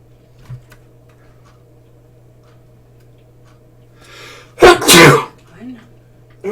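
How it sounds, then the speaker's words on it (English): A single loud, close human sneeze bursts out after a quiet stretch with faint ticking, preceded by a brief breathy intake and followed by a small trailing sound. "Oh no, I feel a sneeze coming on."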